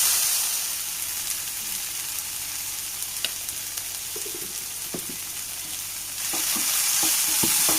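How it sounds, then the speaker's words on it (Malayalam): Chopped curry leaves frying softly in a pan, a continuous close sizzle punctuated by spoon stirring and scraping knocks that grow busier toward the end, no voices. "ഇതൊന്ന് സോഫ്റ്റായി വറുത്തിടും"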